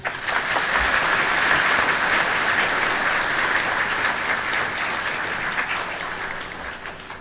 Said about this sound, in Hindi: धन्यवाद स्वरूप जोरदार ताली बजा दीजिए।